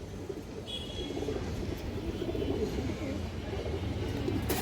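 Pigeons coo softly in low, throaty murmurs against a faint background hum, continuous and fairly close.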